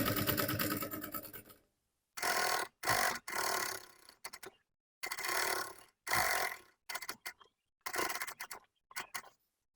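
A sewing machine stitches a soft, padded fabric bag in bursts of rapid mechanical whirring and clatter, separated by short pauses.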